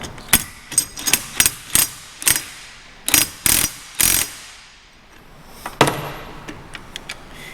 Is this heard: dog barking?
no